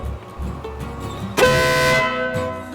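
A loud, sustained Custom Dynamics ProBeast vehicle horn blast lasting about half a second, close by, preceded and followed by low engine or background rumble.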